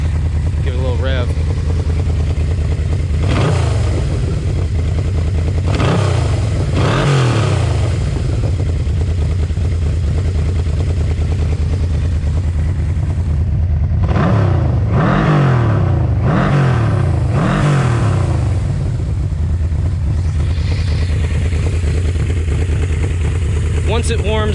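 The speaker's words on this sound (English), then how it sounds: "Bike's coming up to temp. Give it a little rev." A Yamaha VMAX 1200 fitted with an aftermarket exhaust, still warming up on the choke, sits at a deep rumbling idle broken by several sharp revs that rise and fall back, close and loud.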